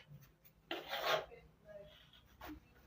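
Scissors snip through trouser fabric along a marked pattern line, giving a short soft rasping cut near the middle, then quieter handling rustles.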